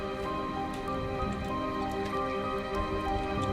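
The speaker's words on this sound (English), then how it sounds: "Also, it's raining. In-game." Steady in-game rain pours down in a dense, even hiss across the whole stretch, with scattered drop patter and no voices.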